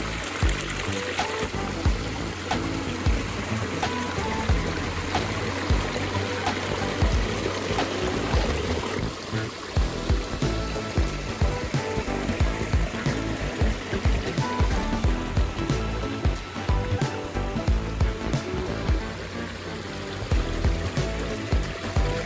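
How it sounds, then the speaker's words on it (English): Small natural-looking waterfall in a stone grotto, a continuous close splashing and trickling rush of water that stays steady and fills the whole stretch without pause. "Look at this little grotto here and how natural of a waterfall."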